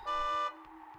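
A car horn honks in the Spider-Man video game on Nintendo 64, one steady harmonic toot lasting about half a second, loud and alone, then fading into quiet game background.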